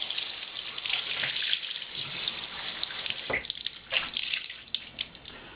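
Cold tap water runs and splashes while a bamboo yarn hat is rinsed in a sink, a steady gush with uneven surges and a few sharper splashes as the hat is moved.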